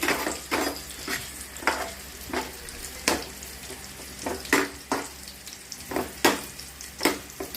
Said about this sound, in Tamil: இந்த மாதிரி கொஞ்சம் நல்லா ஃப்ரை பண்ணிக்கணும்.